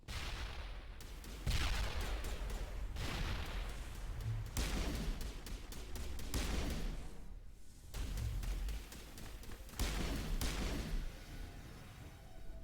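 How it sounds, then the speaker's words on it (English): Grenade explosions in the Mass Effect video game on Insanity difficulty, a run of about five heavy booming bursts at irregular intervals, each with a sharp attack and a rumbling tail, loud and close. "let me, throw a grenade down"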